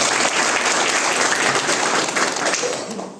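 Loud applause from an audience at a meeting in Bettiah, a dense, sustained wash of many hands clapping that carries on evenly and then tapers off near the end.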